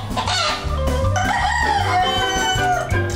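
Two roosters kept at a police station in Betul crow loudly, a sustained cock-a-doodle-doo carrying through the whole stretch with clucking harmonics and no talk over it.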